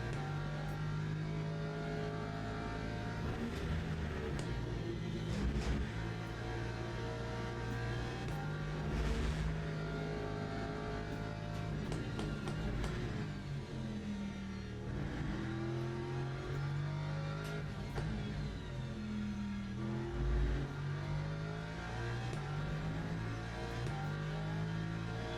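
Race car engine in the Le Mans Ultimate sim, droning steadily throughout with pitch rising and falling through gear changes, loud and close, with no talk over it.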